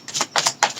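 Tarot cards being shuffled in three quick papery bursts, each a short riffling rustle with brief pauses between, close and fairly soft with no voices.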